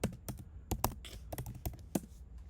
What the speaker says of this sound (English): Okay, so I type in